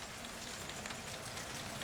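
Rain falls steadily outdoors at a work site with stacked wood, a soft, even hiss of pattering drops that stays fairly faint throughout, with no voices.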